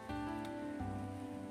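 Steady rain patters on a surface, a continuous close wash with a low hum underneath throughout.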